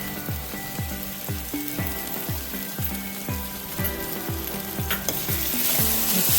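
Masala upma being stirred in a hot pan, a sizzling fry under repeated rhythmic scrapes of the spoon about twice a second, close and steady with no voices.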